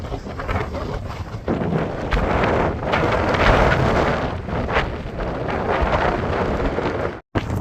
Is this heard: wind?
yes